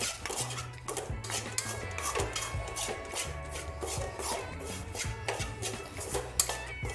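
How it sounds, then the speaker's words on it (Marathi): Gram flour (besan) being mixed in a pan over a low flame, a spatula rubbing and scraping the metal in quick, repeated strokes, close and moderately quiet, with no voices. "आता मी हे बेसन चांगल्या प्रकारे मिक्स करून घेणार आहे"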